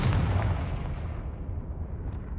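A single Confringo or Bombarda spell explosion in Hogwarts Legacy on PS5, a loud, close blast that starts abruptly and rolls off into a fading rumble.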